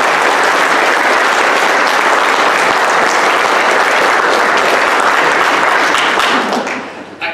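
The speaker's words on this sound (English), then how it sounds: "a round of applause for Tim Martin for sitting down" Loud, steady applause from a banquet audience at a boys soccer banquet, honoring Tim Martin, continuous dense clapping that tapers briefly at the end.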